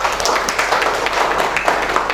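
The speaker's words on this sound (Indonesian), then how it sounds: "Tepuk tangan buat mereka." A classroom group claps for a student team, a dense burst of hand claps sustained and fairly close throughout.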